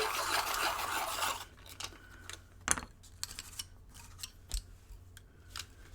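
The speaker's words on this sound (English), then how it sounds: "just sharpening all of these little pencils" Quick dry scraping and rasping strokes of a pencil sharpener on small colored pencils, close up, with a denser grinding burst at the start followed by scattered short scratches and taps.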